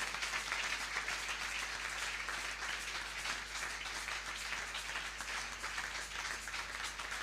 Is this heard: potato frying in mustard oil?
no